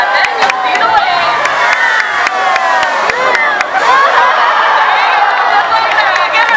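A SeaWorld San Diego orca show audience cheers and shouts, a dense crowd roar with children's voices and scattered claps, steady throughout with a presenter talking over it.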